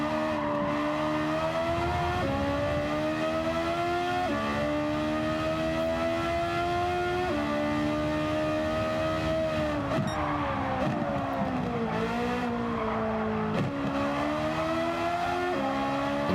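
Race car engine in Gran Turismo 7 driven hard, a loud sustained high-pitched whine climbing and dropping through repeated gear changes, with brief tire squeal near the end.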